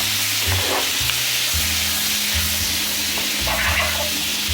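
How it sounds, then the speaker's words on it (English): Loud, close sizzling of corn-flour-coated fish searing in a hot pan, a steady crackle with faint clinks of a utensil. "Now let the fish sear a little bit."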